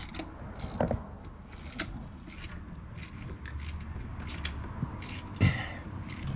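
A wrench tightens the hard line fittings on a 1976 GMC Sierra, producing repeated metallic ratcheting clicks and scrapes at close range over a steady background.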